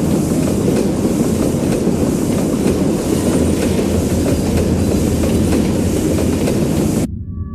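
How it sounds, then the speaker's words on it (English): A train runs steadily on rails in the Garten of Banban 8 video game, a loud continuous rumble with rhythmic clickety-clack that cuts off abruptly near the end. "Why'd the train stop?"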